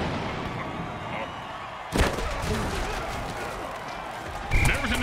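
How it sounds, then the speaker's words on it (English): A video-game explosion during a football match, two sharp booming bursts near 2 and 4.5 seconds over a steady noisy background of game sound and commentary. "There was an explosion."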